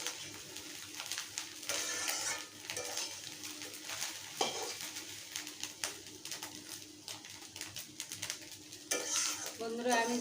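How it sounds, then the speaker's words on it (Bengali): Fish roe frying with bitter gourd and potato in a pan, a steady close sizzle broken by a spatula stirring and scraping against the pan throughout, with no talking. "আমি এইভাবে আরও একটু লালচে লালচে করে ভেজে নেব।"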